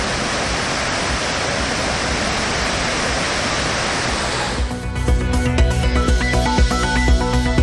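Floodwater roars over Thirparappu waterfall on the Kothai river in Kanyakumari, a loud, steady broadband rush for several seconds before music takes over midway.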